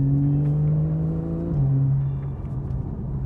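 Porsche 911 991 Carrera S flat-six with sports exhaust holds a deep, steady drone, close and loud, with a brief pitch dip partway through before settling into a rumbling idle.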